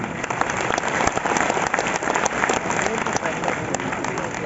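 At an institute's annual function celebrating NEET achievers, a hall audience claps in a continuous, even wash of many hands, moderately loud and unbroken from start to finish, with no standout cheers.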